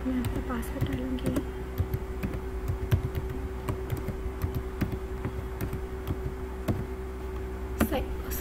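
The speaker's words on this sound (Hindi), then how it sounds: "अब उसके बाद मैं अपना पासवर्ड डालूँगी।" Someone enters a password on a computer keyboard, producing a steady run of close, crisp key clicks with a few louder taps, over a constant low hum, with speech alongside.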